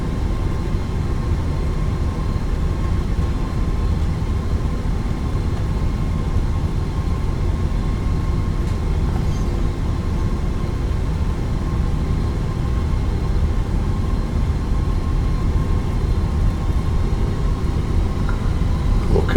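A flight simulator airliner taxis at Dubrovnik, its engines giving a steady low rumble and hum with faint tonal whine, continuous and even throughout.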